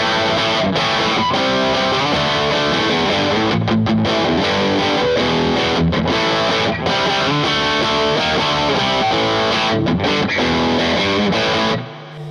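An Epiphone Billie Joe Armstrong Les Paul Junior electric guitar strums distorted chords continuously and loudly, with a brief pause near the end as the chords ring out.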